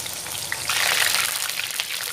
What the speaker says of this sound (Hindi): आप समझिए ये कौन सी सब्ज़ी हम फ्राई कर रहे हैं